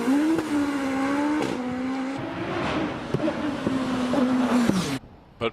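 Race car accelerating hard up the Prescott hill climb, a loud close engine note rising and holding through gear changes with a brief tire squeal, then cutting off abruptly near the end.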